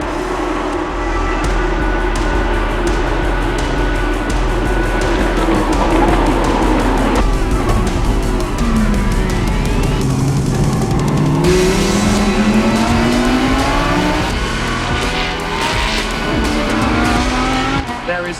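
Lamborghini Super Trofeo Asia race cars at the Sepang circuit: loud, continuous engine roar with rising and falling revs, passing whines and some tire squeal, heard close and steady under a commentator's voice.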